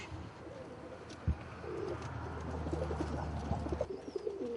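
Domestic show-flight pigeons coo softly in a steady low murmur, with scattered wing flutters and small bumps nearby in a loft.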